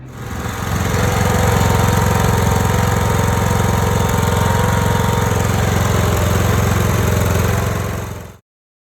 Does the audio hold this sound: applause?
no